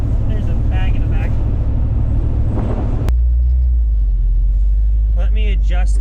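A Squarebody Chevy C30 truck with a swapped 4L80e transmission cruises in overdrive at 45 mph and 1500 RPM, a loud, steady low engine and road rumble with a voice talking over it.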